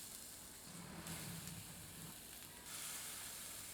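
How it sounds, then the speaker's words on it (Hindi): Chicken seekh kebabs sizzle on a hot greased griddle coated with ghee, a steady close frying hiss with a low crackle that rises and thickens partway through. "गर्म तवे में सीख कबाब रखते हैं।"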